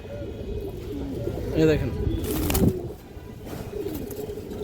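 Pigeons coo softly a few times, up close, with a speaking voice over them and a steady background hum.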